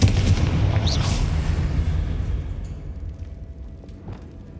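A Confringo explosive spell from Hogwarts Legacy bursts with a loud, booming blast at the start, its rumbling low roar decaying slowly over several seconds, with a faint crackle and a second softer thump near the end.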